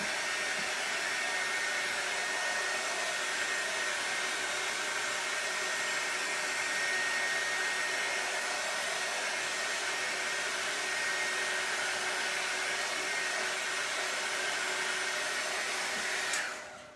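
A hair dryer blows steadily on a fresh coat of Mod Podge decoupage glue over oyster shells for a craft project, a loud, even airy roar that holds for about sixteen seconds and then cuts off abruptly.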